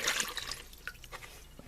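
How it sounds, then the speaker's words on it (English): Water being dumped out of a container during a homemade electro metal etching project, a short splashing pour followed by scattered drips and trickles, fairly close and moderately quiet, with no talking. "Let me dump this water."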